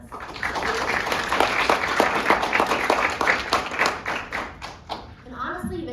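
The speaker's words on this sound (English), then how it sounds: "So round of applause for everybody who was involved in that process." An audience at a university State of the Campus speech claps steadily in a dense, even patter of many hands that fades toward the end.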